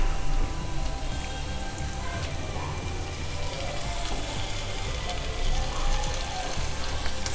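Prawns fry in a pepper masala in a hot pan, giving a loud, dense, continuous sizzle and crackle close up, with no talking.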